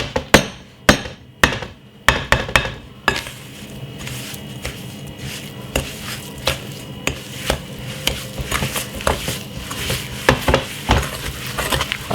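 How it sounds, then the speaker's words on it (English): Butter and sugar creamed together with a wooden spoon for a mango sponge cake, giving a steady run of close, rhythmic scraping knocks against the bowl, sharper thuds at first and then quicker, softer strokes. "once the sugar and the butter go together, you just cream it"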